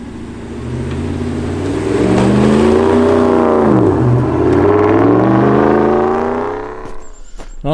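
A Texas edition Chevrolet Silverado pickup climbs a packed-snow hill, its engine revving loud and close, pitch rising, dipping and surging again before the roar fades away near the end.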